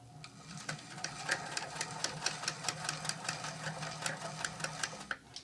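A sewing machine stitches a fabric hat band, its needle making a quiet, rapid, steady chatter of evenly spaced clicks over a low motor hum, close up.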